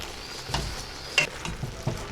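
Shiitake mushrooms, spinach and onions stirred in a pot for one-pot ramen, a soft sizzle under a few scraping utensil strokes against the pot.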